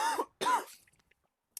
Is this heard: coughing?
yes